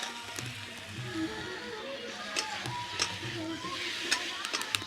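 Boiled potatoes being stirred into spice masala in a pan while cooking a pangas fish curry, with a soft continuous sizzle and intermittent scraping clicks of the spoon against the pan.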